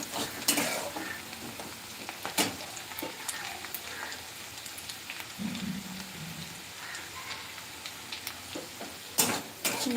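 Onions fry and sizzle in a pan with steady crackle, while a spoon stirs and scrapes at intervals, with a few louder clatters at the start and near the end.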